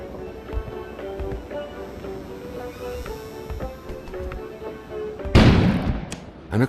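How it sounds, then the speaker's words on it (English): A sudden loud blast erupts outside after a stretch of steady mechanical and musical background, followed by a rumbling, crackling tail and a second burst at the very end. "An explosion suddenly occurred outside."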